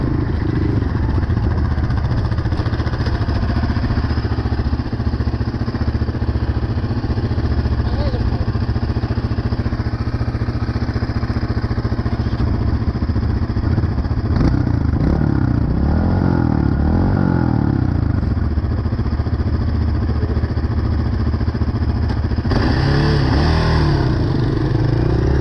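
A dirt bike engine in New Jersey, heard loud and close, drones and revs continuously under overlapping voices talking throughout.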